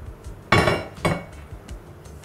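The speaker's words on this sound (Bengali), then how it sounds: "গ্যাস অন করলাম" A pan clanks down onto a gas stove burner in a kitchen while cooking Bengali eggs in mustard sauce, with two sharp metallic knocks close by and a few faint clicks afterward.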